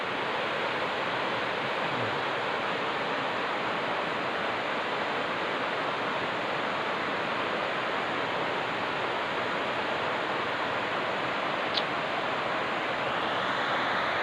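Steady rushing water from a forest waterfall during rising floodwater, a dense, continuous roar with no pauses that stays at an even loudness throughout and has no talking over it.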